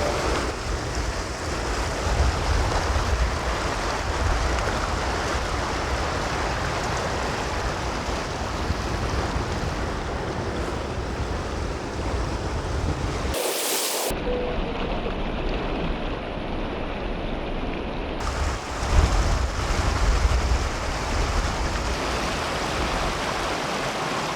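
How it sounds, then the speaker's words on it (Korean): Rushing water of the Taehwa River flows continuously by a stepping-stone crossing, a broad steady roar with some wind buffeting the microphone, and no voices. "차량 신경 쓰지 않고 물소리 들으면서 한번 힐링해 보시죠"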